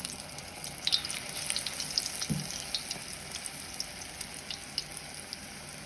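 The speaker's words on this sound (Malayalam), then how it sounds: "നമ്മൾ ആദ്യം ഫ്രൈ ചെയ്യുന്നത് മുളകാണ് കേട്ടോ" Batter-dipped chilies frying in oil, a faint, steady bubbling sizzle with light crackles and one brief thud, no voices.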